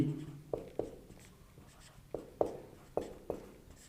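Writing during a physics lecture, with sharp taps and scratchy strokes of chalk or marker on a board in irregular short bursts, close and fairly clear, with no talking.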